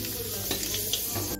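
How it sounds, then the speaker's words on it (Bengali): Curry leaves frying in hot oil after peanuts were fried, a loud continuous sizzle with brief stirring scrapes, close up. "দেখুন আমি কারি পাতা ভেজে নিচ্ছি।"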